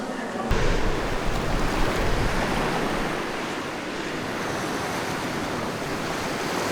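Ocean waves wash steadily onto Tapdong seashore beside Jeju Harbor, a continuous broad rushing surf with some wind noise, close and fairly loud, without pauses.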